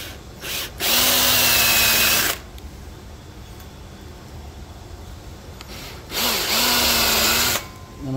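A power drill fitted with a 3/8 inch bit bores into steel in two loud bursts of about a second and a half each, separated by a quieter pause, with a steady whining tone while spinning.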